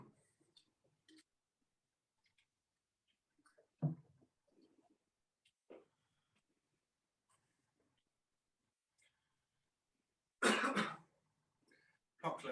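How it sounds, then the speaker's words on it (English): A person clears their throat and coughs a few times during a leg workout class, with quiet gaps and small shuffling sounds between the bursts. "Can't clear my throat today."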